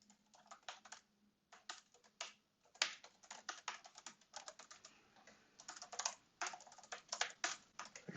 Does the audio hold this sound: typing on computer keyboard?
yes